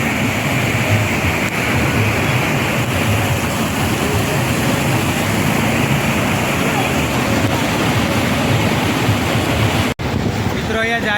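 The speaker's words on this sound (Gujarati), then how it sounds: "આ ખેડબ્રહ્માની નદી છે" The river at Khedbrahma running high, a dense, steady rush of water with wind buffeting the microphone, loud and continuous for the full stretch, with a brief dropout just before the end.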